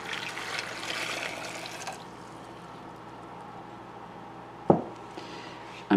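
Hot water from a kettle poured into a blender for a paper-dyeing mix, a short gushing pour in the first couple of seconds that fades to quiet, followed by a single clunk near the end.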